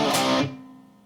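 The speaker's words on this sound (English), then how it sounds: "So those are 4 power chords" A distorted rhythm guitar plays the opening power chords of a song intro, a short loud burst of thick overdriven strumming that cuts off quickly and leaves a fading ring.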